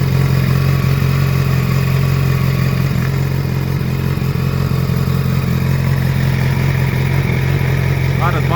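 A motorcycle engine with original exhausts idles steadily nearby with a low, even rumble, while a person talks over it.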